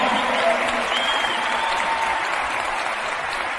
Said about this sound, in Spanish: Vamos a darles una ovación muy fuerte a sus diamantes